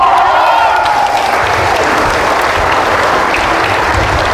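A church congregation claps in loud, continuous applause throughout, with a crowded, roomy sound and no talking over it.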